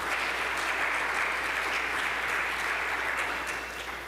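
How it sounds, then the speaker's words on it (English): An audience at a college convocation forum gives student participants a sustained round of applause, a dense, even roar of many hands that holds steady before easing slightly at the end. "Let's also give our participants another round of, our student participants a round of applause."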